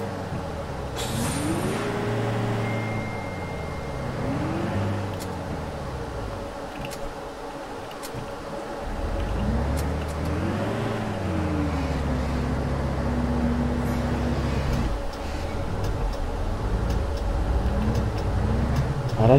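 A simulated Renault Karosa or articulated MAN bus drives through heavy snow in OMSI 2, its engine droning and rising and falling in pitch with gear changes, plus occasional hisses and clicks, loud and steady.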